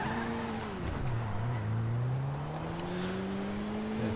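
An 80s-style Karin car is driven in GTA 5 Online, its engine note rising and falling as it revs and accelerates. The engine sound is continuous and close.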